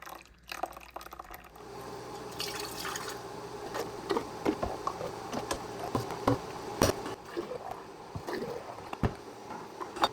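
Homemade apple juice poured from a pot into glass canning jars, a steady liquid stream with gurgling and small clinks of glass against metal and jar, continuous at close range.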